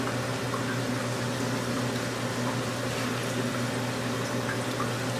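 Pork slices deep fry in a pan of oil with a steady, dense sizzle and bubbling that holds level the whole time, close up and with no talk.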